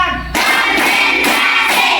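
A classroom group claps hands in a lesson's rhythmic clapping routine, several sharp collective bursts spaced about half a second apart, loud and close.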